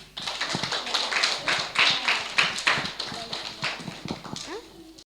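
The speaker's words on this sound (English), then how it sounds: "Big clap for भाई जी बहन जी।" Children clap in short, irregular bursts of sharp taps inside a school classroom, fairly close, with talk mixed in between the claps.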